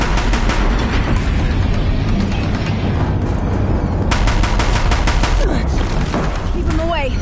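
Rapid gunfire bursts in Horizon Zero Dawn hammer near a bridge under attack, loud overlapping shots and booms clustered in volleys, with a sharp barrage late on and voices mixed in.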